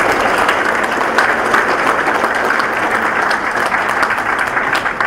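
A school audience at a senior awards ceremony gives loud, continuous applause for the award winners, a dense even wash of many hands clapping from start to finish.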